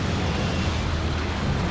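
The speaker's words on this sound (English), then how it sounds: "That explosion there you saw." A Neurothrope's Cataclysm psychic blast in the Dawn of War 2 strategy game, a dense, sustained roaring rumble with broad crackling noise, loud and steady throughout with no pauses.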